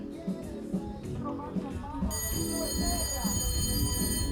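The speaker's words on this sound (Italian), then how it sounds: "La campana ora suona per Edith Girl" A start bell rings at an outdoor Italian show jumping competition in a C130 mixed class, sounding as a sustained electric tone that begins partway through and holds steadily over the arena background.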